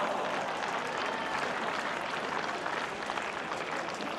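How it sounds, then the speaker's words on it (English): A crowd applauds at an Australian Open bowls final after a lucky shot, a steady, distant-sounding wash of clapping lasting several seconds with no voices. "applause from the crowd"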